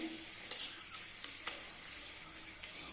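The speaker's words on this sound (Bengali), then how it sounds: "তেল গরম হয়ে গেছে আমি পাঁপড়গুলো ভেজে নিই" Papads frying in hot oil give a steady, fairly quiet sizzle with light crackle, plus a few faint clicks and scrapes scattered through.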